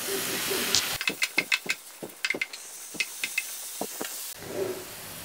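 Small pieces of a large chopped tomato go into a hot pan for a soya mushroom butter masala curry, giving a steady close hiss broken by a quick series of sharp clacks and taps from a spoon against the pan.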